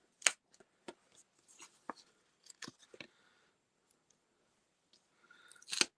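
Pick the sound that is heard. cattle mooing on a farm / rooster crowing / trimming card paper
trimming card paper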